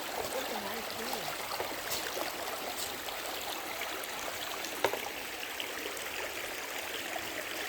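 Creek water flows steadily over rocks among redwoods, a continuous broadband rush close by with small splashes and no voices.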